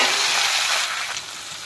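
Sliced bitter gourd drops into hot oil with mustard seeds and dried chilli in a kadai and sizzles loudly at first, a bright hissing fry that eases off slightly after a second.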